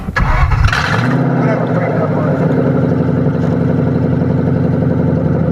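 A 1996 Ford Crown Victoria with a five-speed manual and an open header cranks briefly, then fires into a loud, steady, rumbling idle that holds close and unbroken.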